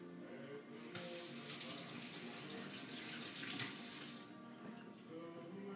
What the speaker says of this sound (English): what I want to do, I want to wash my hands